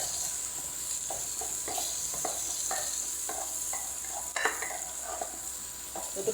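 Onions fry in oil in a pan with a soft, steady sizzle, punctuated by regular scraping clicks of a utensil stirring, heard close and without talk.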